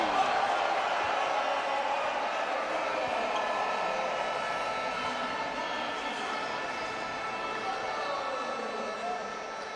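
Crowd at a FIBA Basketball World Cup game between Greece and Senegal keeps up a steady roar in the arena, with rising and falling whistles and shouts, while a commentator talks over it.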